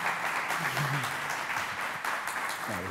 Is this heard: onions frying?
no